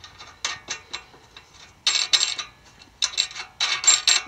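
Two nuts being tightened against each other on the tie-down rod of a Yamaha TW200 motorcycle, heard as repeated close, bright bursts of metallic ratcheting in uneven short runs.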